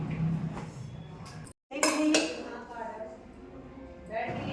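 Metal thali plates and dishes clink and clatter as they are laid out for a homemade dinner, with bright, close metallic knocks scattered among softer handling sounds and some speech.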